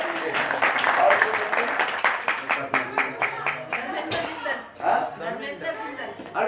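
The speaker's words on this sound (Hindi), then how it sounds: "उनके लिए एक जोरदार से ताली बजा दीजिए।" Applause and clapping from an audience at a Hindi devotional house program, a dense burst of many hands that thins into scattered claps and cheers over several seconds, loud and close.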